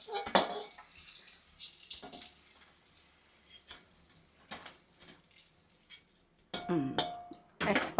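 Plates and dishes clatter as boiled eggs are moved onto a plate while cooking Mughalai egg curry, with a sharp clink at the start and a louder burst of clattering at the end, quiet kitchen sounds in between.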